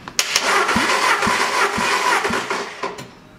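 A 16-valve Skoda/VW engine (code BUD) cranks on the starter during a compression test of the first cylinder, with a rhythmic, even chugging, several regular compression pulses, close and fairly loud.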